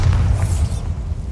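A Bombarda spell explodes in Hogwarts Legacy, a loud, deep boom with a rumbling low end and a brief crackling burst that fades over about a second.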